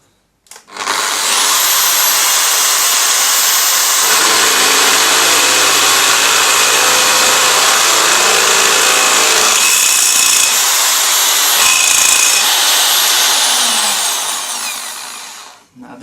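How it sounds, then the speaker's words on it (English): A power drill whines loudly and steadily through aluminum for over ten seconds, pitch dipping as it bites, then winding down at the end. "let's go ahead and drill those bigger holes"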